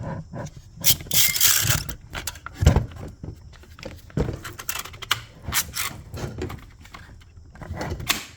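A Ridgid 18V brushless brad nailer being loaded with 1.5 inch nails: close, irregular mechanical clicks, rattles and a sliding magazine snapping, with no talking.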